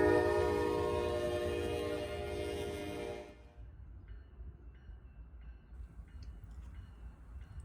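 Norfolk Southern freight train NS 215 with locomotive NS 4000 trailing, passing late at night: loud, rich engine and rail roar with a strong harmonic drone that cuts off abruptly partway through, leaving a quieter rumbling tail.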